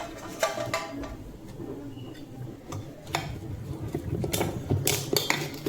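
Beetroot idli batter with added salt is stirred in a bowl, giving a steady run of soft clinks and scrapes against the vessel, moderately loud and close, with no talking.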